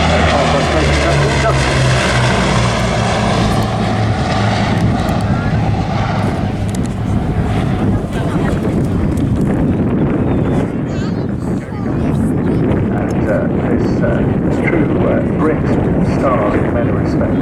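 A Bristol Blenheim IF propeller aircraft flies past at an airshow, its engine drone loud and sustained with wind buffeting, while a commentator talks over it.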